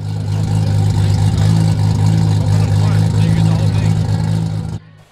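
Modified Toyota Supra idling at a Supra meet, a loud, steady low-pitched engine rumble with a slightly lumpy pulse that holds for about five seconds before cutting off abruptly.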